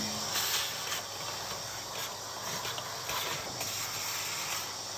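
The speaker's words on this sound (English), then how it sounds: "I'm also just going to get the vacuum cleaner in there as well" A vacuum cleaner runs with a steady, airy hiss and whine, its suction pulsing slightly as it moves about, heard close.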